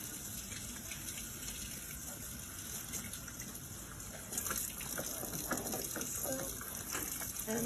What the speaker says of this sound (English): So I'm gonna turn on the water, make sure it's warm.